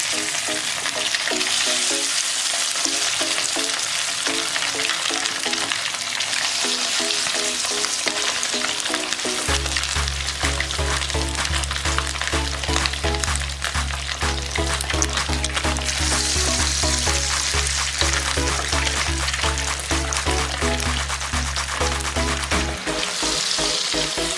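Small pieces of fish pakoda batter deep frying in hot oil make a dense, loud, continuous crackling sizzle that holds throughout, joined midway by a steady low hum.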